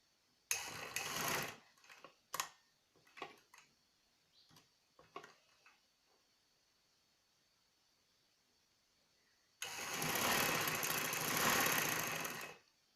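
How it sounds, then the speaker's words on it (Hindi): A sewing machine stitches the fitting seams of a velvet shirt, starting at the sleeves, in a short run of stitching, then scattered ticks and clicks, then a longer steady burst of stitching. "अब शर्ट की फिटिंग की सिलाई लगाएं जो कि बाजुओं से स्टार्ट होगी।"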